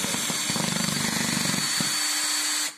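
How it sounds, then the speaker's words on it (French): A power screwdriver drives a screw into a molly hollow-wall anchor, a loud steady motor whir with a rattling, pulsing grind that tightens briefly near the end before stopping abruptly. "j'ai positionné la cheville molly comme tout à l'heure, et je vais venir"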